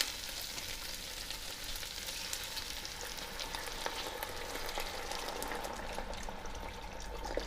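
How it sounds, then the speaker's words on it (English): Beef broth poured into a hot pan for short rib tacos, a continuous close sizzle and bubbling hiss with faint liquid splashing, steady throughout and no voices. "now I'm going to add the beef broth."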